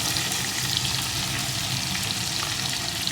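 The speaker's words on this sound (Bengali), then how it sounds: "এখন কাঁকড়া মাছগুলো আমি কিছুক্ষণ ভালো করে ভেজে নেব" Crabs frying in a pan with turmeric powder and salt for a crab curry make a loud, dense, continuous sizzle close by, with a constant crackling hiss and no voices.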